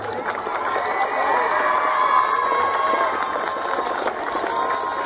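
A school audience at a civic ceremony claps and cheers in a steady, loud wash of applause, with shouts and children's voices mixed into the crowd noise throughout.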